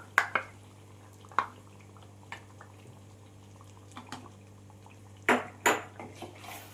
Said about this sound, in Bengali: এবার আমি যে পেস্টটা তৈরি করে রেখেছিলাম সেটা আমি এখানে দিয়ে দিলাম।